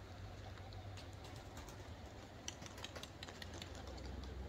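A large flock of pigeons taking off and flying overhead, soft wing flutters and faint coos over a steady low outdoor rumble, fairly quiet and distant.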